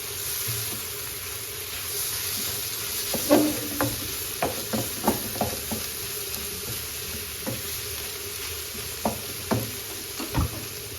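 Chicken frying in a pan with tomato and onion, a steady sizzle with intermittent clinks and scrapes of a spoon stirring, close and fairly quiet.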